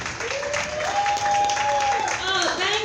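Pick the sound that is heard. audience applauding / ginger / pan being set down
audience applauding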